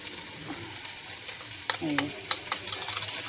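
A spoon stirs a soy sauce and chili powder mixture in a pan during home cooking, giving soft scraping and clinking over a low sizzle, with brief bright knocks of utensil on the pan toward the end.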